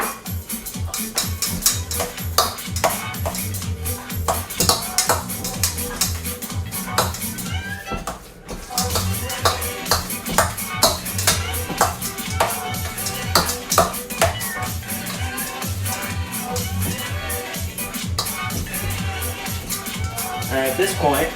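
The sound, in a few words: mixing strained pimentos into pimiento cheese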